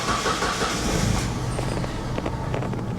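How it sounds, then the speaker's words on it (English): A 1991 Plymouth Colt engine idles low at about 500 rpm while warming up, a steady rough rumble with faint ticking, close and continuous. "It's idling at like 500 RPMs. I'm going to let it warm up for a minute."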